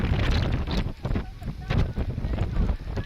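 Strong gusty wind buffets the microphone outdoors in the Lake District, a loud continuous low roar with surging gusts throughout and no clear voices.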